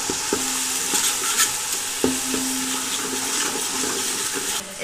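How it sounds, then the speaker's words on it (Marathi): Turmeric is stirred into hot frying oil for a chicken curry: a continuous loud sizzle runs throughout, and a spoon knocks and scrapes against the pan in a few sharp strokes. "थोडीशी वर हळद टाकून घ्यायची, कलर येतो भाजीला हळदीने। मस्त मिक्स करून घ्यायचं सगळं व्यवस्थित तेलामध्ये।"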